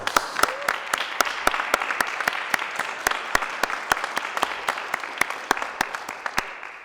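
Applause for awardees at an awards event, heard as a lone pair of hands clapping at a steady pace of about three sharp claps per second over a faint background hiss.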